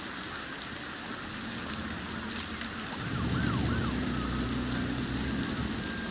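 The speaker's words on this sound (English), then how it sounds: "Wow, look at all those ambulances. Look at them go." Ambulance sirens wail in a busy Cities: Skylines town, rising and falling faintly over a steady hiss of rain-like city ambience that swells louder midway through.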